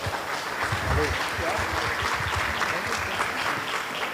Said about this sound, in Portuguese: Aplaude o nome de Jesus bem forte.